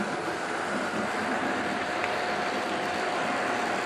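Hornby Triang model LMS train running around a layout, giving a continuous steady rumble and whirr of wheels on track, close and even in loudness, with no voices.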